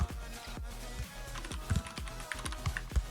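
Computer keyboard keys pressed during a FIFA Online 4 match, a steady series of close, crisp clicks and taps at an irregular quick pace, with faint game sound beneath.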